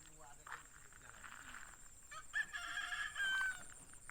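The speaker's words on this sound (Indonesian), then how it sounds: "ada suara ayam berkokok" A rooster crowing out among rice paddies in open countryside, a thin drawn-out call carried from some distance, with a person talking nearby.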